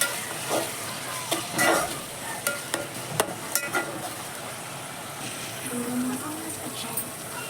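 Food sizzles in a pan while a spoon stirs and scrapes in irregular strokes, close and fairly loud, with a steady frying hiss.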